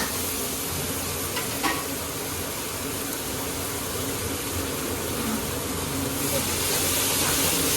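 Ginger garlic paste hits a hot pan in a roadside dhaba kitchen, giving off a loud, continuous sizzle and hiss that lasts throughout, over dense background kitchen noise.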